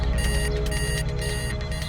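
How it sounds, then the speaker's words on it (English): An alarm clock rings in a steady, loud electronic pattern of repeated bursts that runs through the whole moment, with no voices. "alarm clock."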